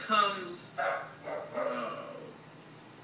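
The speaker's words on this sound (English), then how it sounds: "excuse the dogs next door, they're a little bit loud" Several dogs bark next door in short, sharp bursts over about two seconds, moderately close and loud, with a quiet voice talking alongside them.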